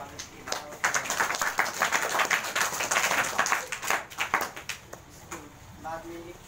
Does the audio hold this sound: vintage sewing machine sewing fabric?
no